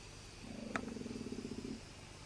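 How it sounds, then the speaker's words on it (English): A low, steady mechanical whirr from a Mainline J72 model locomotive mechanism running for about a second and a half, fairly quiet, with a brief click near the start. "It's quite easy to test the mechanism for correct functioning."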